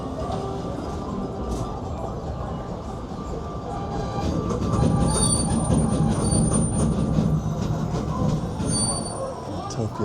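A Disneyland park train rumbles steadily along the track at night, wheels clattering and occasionally squealing, the rolling noise swelling slightly midway and continuing throughout.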